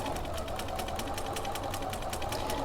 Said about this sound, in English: And so we'll just back stitch there.